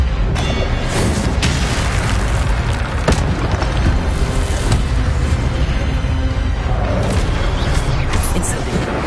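Incendio fire spells cast again and again in Hogwarts Legacy, producing loud, dense roaring blasts with repeated booming bursts that run on without a break and with no talking.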